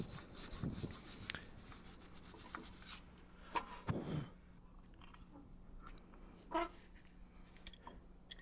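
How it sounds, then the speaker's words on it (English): Rust is scrubbed from the inside of the brake caliper pistons of a 1997 Ford Ranger: faint, irregular rubbing and scraping strokes with brief louder scrapes, in a quiet setting. "inside of my caliper pistons, there's a fair bit of rust, so I clean that out"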